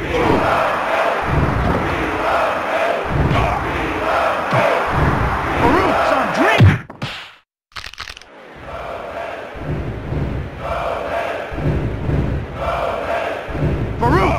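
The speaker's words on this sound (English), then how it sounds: "This crowd is electric! Everyone's up! It's worked them into a frenzy!" Crowd in the video game WWF Attitude roars and cheers at a wrestling match, a loud dense wash of noise that drops out briefly mid-way and then surges back.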